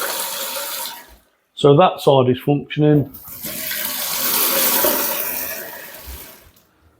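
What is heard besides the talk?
water running from a cold kitchen tap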